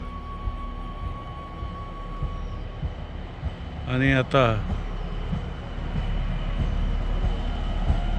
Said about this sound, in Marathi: रेल्वे ही या ठिकाणी दिसत आहे